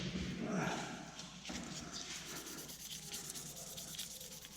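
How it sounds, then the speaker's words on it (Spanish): Rubbing and polishing on Victorinox pocketknife handle scales, with repeated soft scraping strokes in one direction, faint and close, while someone talks over it. "Siempre trato de darle en un mismo sentido para que al pulir resulte más fácil."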